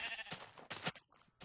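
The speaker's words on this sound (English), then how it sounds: "There's a sheep." Sheep bleating in Minecraft, a few short blocky bleats in quick succession, close and clear with no talking over them.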